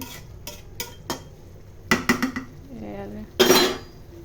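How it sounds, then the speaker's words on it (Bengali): A lid is set over a cooking pot of potato and lentil charchari, with a few sharp metallic clinks and clatters, then a louder rattling clank at the end, close by amid quiet kitchen noise. "ডাকনা দিয়ে ডেকে দিচ্ছি"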